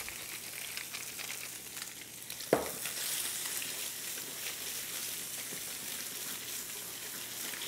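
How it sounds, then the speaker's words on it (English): Halibut sears in hot butter in a pan, giving a steady soft crackling sizzle with a brief sharp clatter partway through, fairly quiet and continuous. "That's the sound you want to hear right there. You want it a nice hot sear."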